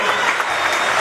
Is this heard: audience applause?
yes